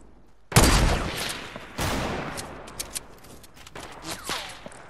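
Gunfire in a video game: a loud burst of shots, then a second volley, followed by scattered fainter cracks and echoes.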